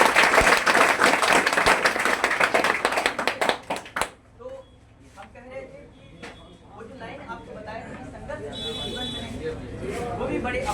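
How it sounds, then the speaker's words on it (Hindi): Loud, dense applause from an audience at a motivational speech event in India fills the first four seconds, then cuts off abruptly, leaving a quieter room with scattered sounds and a voice speaking. "और सर के इस क्रांतिकारी कार्य के लिए एक बार जोरदार ताली बजाइए।"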